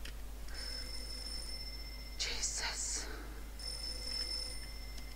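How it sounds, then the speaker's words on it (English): An old telephone rings inside an abandoned, powerless house in the horror game Mermaid Swamp, a bright electronic trill in repeated bursts over a steady low hum, with a brief louder noisy rustle midway. "Why does the phone ring?"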